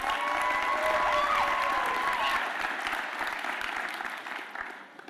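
Audience applause at a high school graduation ceremony for Linden McKinley graduates, a dense sustained clapping crowd with a few cheers and whistles, loud and steady before gradually thinning toward the end.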